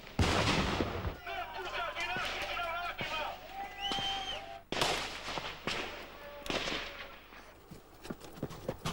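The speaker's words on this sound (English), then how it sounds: "The outcome tonight, a fierce exchange of fire." A fierce nighttime exchange of gunfire breaks out at a besieged army base in Zagreb, Croatia, in 1991, with loud sharp bursts and repeated cracks over a rumbling background, and voices talk over the shooting.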